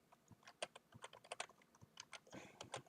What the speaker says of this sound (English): let me just finish typing this out